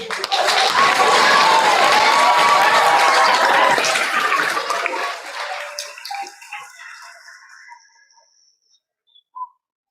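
Loud audience applause and cheering at a school's 5th grade fly-away ceremony, dense clapping from a crowd that swells and then tapers off, fading to silence with a few stray claps near the end.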